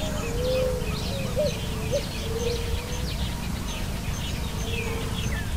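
Picui ground dove giving soft, repeated low cooing notes in the Caatinga scrub, faint and spaced out over a steady background hum, with scattered thin chirps from other birds.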